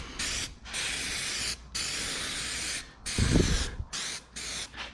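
Spray paint can spraying blue onto a chassis cart for a 1963 Loadstar truck, several sustained hissing bursts of about a second each separated by short pauses, close and loud, with a brief low thump partway through.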